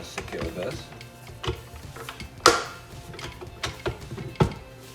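A metal grinder attachment is screwed onto a KitchenAid stand mixer, producing a few close clicks, ratcheting twists and one sharp clunk of metal parts seating together.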